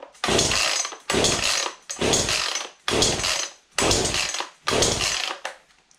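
A chainsaw engine being started and warmed up, with repeated loud, close revving bursts of about a second each, separated by brief drops, with no voices.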